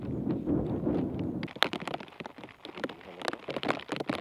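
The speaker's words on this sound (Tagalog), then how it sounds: "Nang bumuhos ang ulan," Steady rain pours down in Sagada, a dense hiss at first, then shifting to sharper, irregular spatters and drips on a hard surface.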